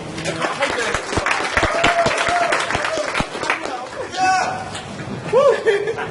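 A street crowd of around 130 people gives a round of applause during an outdoor seduction talk in London's West End, scattered claps mixing with chatter and light laughter as a voice talks over it.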